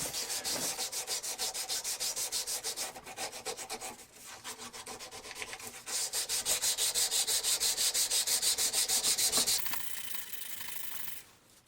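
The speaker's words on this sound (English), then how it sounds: "the sides of the scales and begin just smoothing and shaping those, and then work my way down through the different grits" Knife handle scales on a full-tang 1095 steel knife being sanded by hand through grits from 150 to 600, a steady close rhythmic rasping of back-and-forth strokes with brief pauses between runs.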